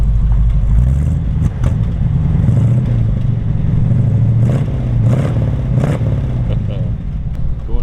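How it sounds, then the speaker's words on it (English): A 1932 Ford five-window coupe with a built, balanced 286 cubic inch flathead V8 idles loudly up close, then revs several times in rising and falling bursts, with a rough clattering rumble throughout. "He's going to rev it up a little bit for me."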